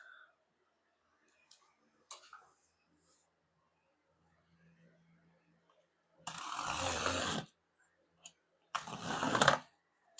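Blade slicing through a cardboard sheet laid over carpet, two loud rasping cuts about a second long each, separated by quiet, with faint clicks and handling sounds before.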